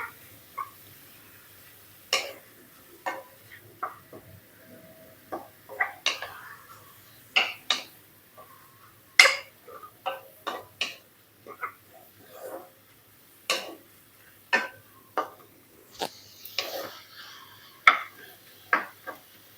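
Pork leg being stir-fried in a pot for a Thai curry of bok choy with fermented fish, heard as a series of sharp, near clinks and scrapes of a utensil against the pot at an irregular rhythm, with quiet gaps between them.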